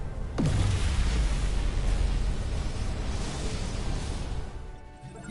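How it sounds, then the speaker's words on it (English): A dilithium crystal explosion in the Star Trek: Resurgence video game bursts with a sudden deep boom, then a sustained loud rushing roar that slowly fades over several seconds, with no talking. "Dilithium explosion!"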